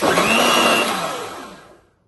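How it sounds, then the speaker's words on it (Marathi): A mixer grinder whirs loudly up close while blending Kashmiri chilies and garlic with a little water into a fine masala, then spins down and falls quiet near the end. "इल्लेशें उदक घालून हो सगळो मसालो आमी बारीक वांटया."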